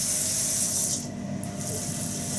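Water running steadily into a kitchen sink as sliced potatoes are rinsed to wash off starch, a continuous close hiss with a slight dip midway, no talk.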